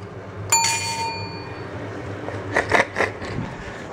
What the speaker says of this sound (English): That is so brilliant, it warrants a bell ding.